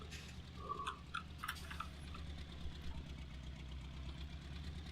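An old tractor with a low-level exhaust runs at idle on a farm, a faint steady low engine throb with a knocking pulse, plus a few brief higher clinks and chirps over it.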